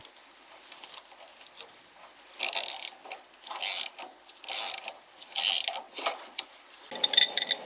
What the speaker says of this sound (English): I can now begin tightening the clutch bolt with just the socket and ratchet until the whole drive shaft begins to turn.